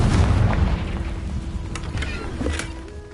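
A deep, rumbling spell explosion from a Harry Potter-style video game, heavy low boom rolling continuously with scattered bright crackles and chimes layered over the blast.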